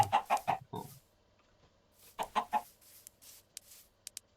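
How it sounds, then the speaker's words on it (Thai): Chicken clucking in the Minecraft video game: two bursts of rapid, close clucks separated by a brief pause, followed by a few shorter, fainter clicks and footstep-like taps, with no talking. "เจอตอนนี้ก็คือไก่นะ"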